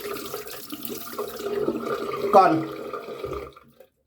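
Tap water running while rinsing a razor, a continuous splashing flow that swells briefly as the razor passes under it, then cuts off. A voice speaks briefly over it.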